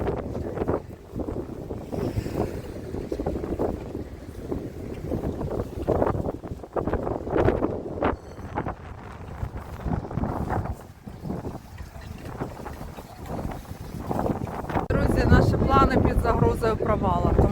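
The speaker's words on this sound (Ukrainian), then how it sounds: "Ще додався вітер." Steady wind rushes and buffets the microphone outdoors in Odesa, Ukraine, a continuous low roar running beneath people talking.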